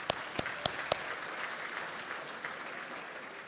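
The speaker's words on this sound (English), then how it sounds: "So a round of applause for that" Applause at a rugby league club's end-of-season awards night, a soft, distant patter of clapping with a few sharper, closer claps at the start, steady and fairly faint throughout.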